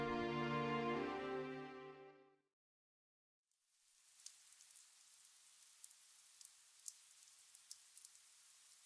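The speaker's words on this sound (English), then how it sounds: "Falling rain, she was stumbling aimlessly through the dense forest." Rain falls steadily in the Fate/Stay Night visual novel, a soft, fine hiss of drops with scattered brighter patters, rising after a pause that follows a stretch of tonal music.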